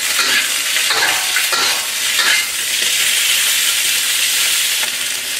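Ginger, garlic and vegetables hit a hot pan for a Chinese sweet and sour dish, giving a loud, steady sizzle with bursts of scraping as they are stirred quickly, with no speech.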